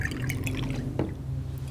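A cartoon water effect from the Lackadaisy pilot: liquid dripping and filling, heard close over a dense, steady low background, with one brief sharper splash near the middle.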